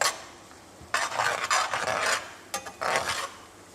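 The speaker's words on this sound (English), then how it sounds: "With a spoon, just give it a stir." A spoon scrapes and stirs a flour roux in a pan for smothered chicken, three short quiet bursts of scraping separated by near-silent pauses.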